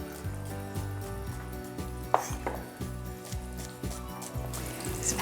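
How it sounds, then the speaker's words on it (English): Shallots and wild mushrooms sizzle steadily in a hot pan, a continuous crackling hiss with occasional clinks of utensils, close up and with no talking. "Once you hear it sizzling like that, it's ready."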